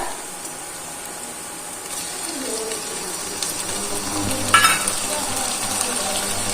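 Chopped onions frying in a pan for yellow dal, a steady close sizzle with occasional stirring clatter and a brief louder clank, and a hint of voice in the background.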